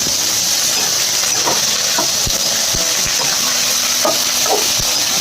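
Chillies frying in a pan of hot oil for ridge gourd chutney, a steady close sizzle with occasional crackles and pops throughout, no talking.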